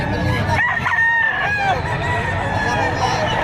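A year-old rooster crows at the Padre Garcia livestock auction market in Batangas, a loud, close call with rising, wavering tones, set against clucking fowl, crowd noise and people talking.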